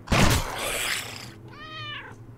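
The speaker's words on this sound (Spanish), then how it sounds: "parece que hay un gatito maullando" A kitten meows inside the survival game Undying, a short rising cry with clear harmonics that follows a loud burst of game noise and sits over a low steady background hum.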